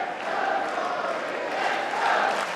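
Wimbledon crowd chanting in unison during Djokovic's match against Norrie, a broad, steady wash of many voices that swells slightly near the end.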